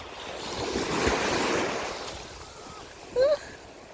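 Ocean waves washing in at a beach, a soft swell of surf that rises and recedes with light wind noise, and a brief high bird-like call near the end.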